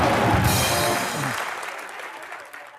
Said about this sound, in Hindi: एक बार दीपिका अर्जुन के लिए जोरदार तालियां।